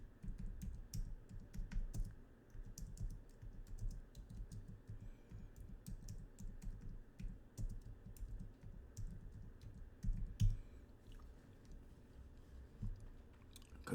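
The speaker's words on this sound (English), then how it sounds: "now let's type in Cassander" Fast typing on a computer keyboard, close and fairly quiet, with uneven bursts of clicky keystrokes over a low rumbling background.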